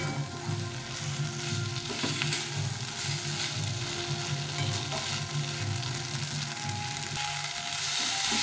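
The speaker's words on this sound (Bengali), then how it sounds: "এইভাবে আলুটাকে ভালো করে কষিয়ে দিতে হবে।" Potatoes fry with spices in oil, a steady, close, dense sizzle that holds at an even level throughout with faint stirring underneath and no voices.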